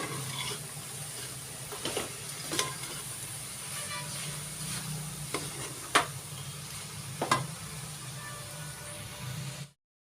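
A jaggery and coconut mixture is stirred in a pan as the jaggery melts, giving a steady soft sizzle with a few sharp spoon scrapes and knocks against the pan.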